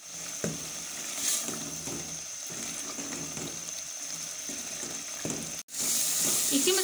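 Reserved chickpea boiling stock poured into a pan of frying masala, giving a steady broadband sizzle and watery hiss throughout, with a brief dip near the end before the sizzling returns louder.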